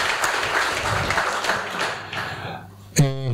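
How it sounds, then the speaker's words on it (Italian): Attendees at the Blender Italia Conference 2019 applaud themselves, a steady crowd clapping that thins and fades before a voice begins near the end. "Fate voi un applauso a voi stessi perché avete creato"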